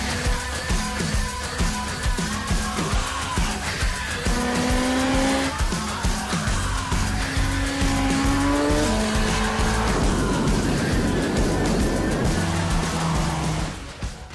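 A BMW is driven hard around a closed circuit, its loud engine rising and falling through repeated gear changes while the tyres squeal steadily through the corners, close and continuous with no talk.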